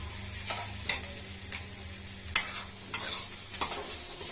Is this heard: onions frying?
yes